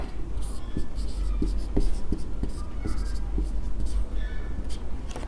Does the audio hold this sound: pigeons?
no